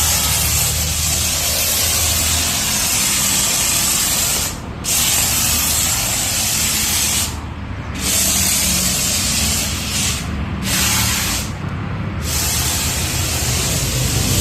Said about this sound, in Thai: พร้อมสาย ฉีดน้ำยาโฟมกับปืนฉีดโฟมค่ะ